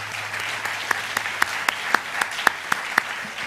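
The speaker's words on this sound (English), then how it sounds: "So if we can just give them a round of applause, I'd appreciate it." Audience applause at a Computer Science Education Week kickoff event, an even bed of many hands with a few crisp, closer claps standing out at regular intervals.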